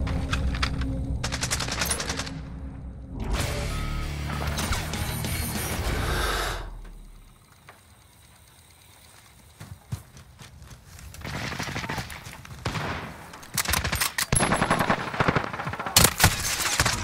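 SMG gunfire in a first-person shooter video game: fast dense bursts up front, a quiet gap, then sparser sharp shots and clatter toward the end, fairly loud with no speech.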